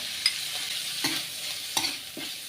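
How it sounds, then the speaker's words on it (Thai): A garlic, coriander root and pepper paste stir-fries in a pan, a soft steady sizzle with a few scraping stirs at irregular intervals. "สามเกลือของเรานะครับ ใส่ลงไปผัด เพิ่มความหอมครับ"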